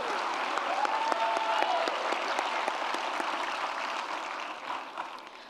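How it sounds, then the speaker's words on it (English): An audience at a graduates' celebration evening gives a sustained round of applause lasting over five seconds. Many individual claps are audible, a brief whistle rises early on, and the clapping slowly tapers near the end. "Please give them a round of applause for their time,"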